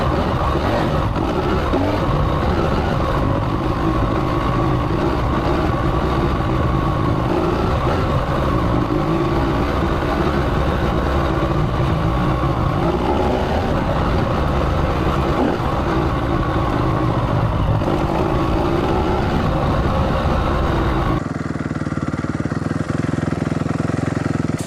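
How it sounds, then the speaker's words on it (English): Motorcycle engine idling steadily and loudly nearby for about twenty seconds, a continuous low rumble that cuts off abruptly when the bike is shut off, leaving quieter background sound. "So now I'm going to turn the bike off."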